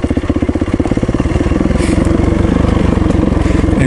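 Motorcycle engine running steadily while riding, a loud continuous throbbing drone close to the microphone with a rough mechanical pulse, no voices over it.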